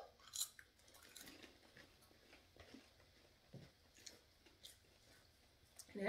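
Someone chews strawberry-flavored popcorn up close, producing quiet, irregular crunches and bites with soft pauses between them and no talking.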